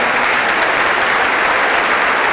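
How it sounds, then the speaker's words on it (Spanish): A church audience applauding a couple, a dense, loud, continuous wash of clapping with no gaps, heard close and without talk. "Un aplauso para ustedes, por favor."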